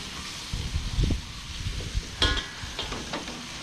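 Vegetables stir-fried in a hot wok: a steady sizzle with scraping and tossing clatters, plus a couple of sharper metallic clinks, close by.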